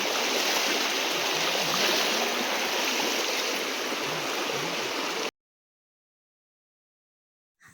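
A loud, steady roar of rushing water from a waterfall in the Andaman Islands fills the air close by for about five seconds, then cuts off to silence.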